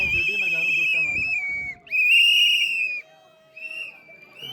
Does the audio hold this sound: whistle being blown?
yes